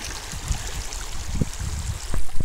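Water runs steadily through a Jobe sluice set up for gold prospecting in Arizona, a continuous rushing and trickling wash with soft knocks and splashes that grow louder toward the end.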